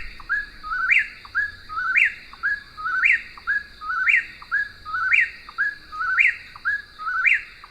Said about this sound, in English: So let me play that for you now if you haven't heard a whippoorwill.